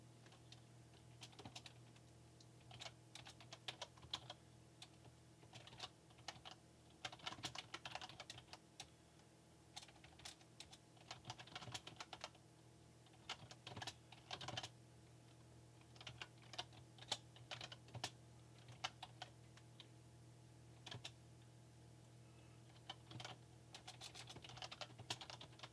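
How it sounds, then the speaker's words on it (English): Quiet, irregular bursts of typing on a computer keyboard, with clusters of soft key clicks separated by short pauses over a low steady hum. "I'm going to type the rest out"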